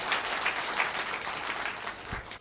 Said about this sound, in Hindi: एक जोरदार ताली पहले सबसे पहले आप सभी के लिए।